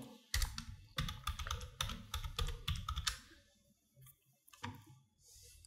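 Fast clattering keystrokes on a computer keyboard, close and crisp, in quick bursts over about three seconds, then a few scattered clicks.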